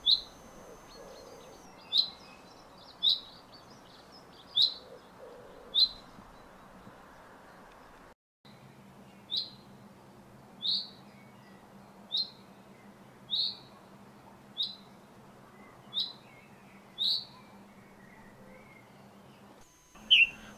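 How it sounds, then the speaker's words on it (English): Male chaffinch giving its repeated zip-zip call on a Cornish summer hillside, sharp high notes spaced roughly a second apart, a dozen or so in a steady series over soft background hum. "Male chaffinches seem to spend more time employing their zip-zip call than in full song."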